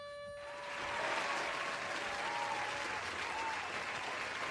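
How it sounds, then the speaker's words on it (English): Sustained audience applause from a podcast studio crowd, dense and steady, swelling after a brief quiet start and holding loud throughout with no talk over it. "No, it was applauding."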